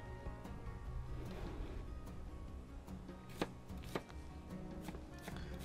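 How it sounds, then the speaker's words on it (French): A knife chops onions on a board with sparse, sharp, separate strikes at an unhurried pace, close by over a low, steady background hum. "Voilà, donc on coupe nos oignons tranquillement."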